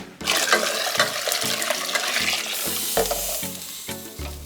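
Homemade coconut milk, made from scratch, poured into peas cooking for Jamaican oxtail, giving a steady loud sizzling, bubbling wash that runs throughout with a few louder pulses near the end, no voices.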